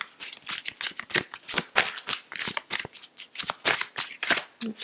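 Oversized tarot cards being shuffled by hand at close range, a steady run of crisp riffling bursts and flicks with short pauses between them, with no voices.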